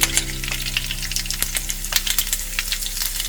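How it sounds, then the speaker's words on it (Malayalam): Chopped green chilies dropped into a hot frying pan for Kerala inji puli, giving a steady sizzle with scattered crackles and light scraping, close and continuous. "പച്ചമുളക് അരിഞ്ഞു വെച്ചിരിക്കുന്നത് അതിലേക്ക് ഇട്ട് കൊടുക്കാം"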